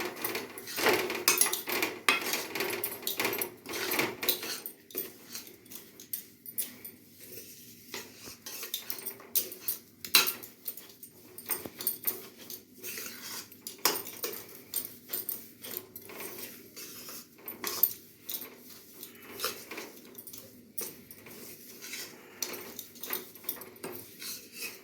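A metal spoon scrapes and clinks against a pan as roasted, browned gram flour (besan) is moved onto a plate for sweets, with busy irregular scraping and tapping, close by, steady throughout with no talk.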